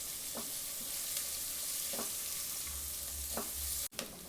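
Oil sizzles steadily as onions fry in a pan, with periodic scraping stirs and a sharp clack near the end.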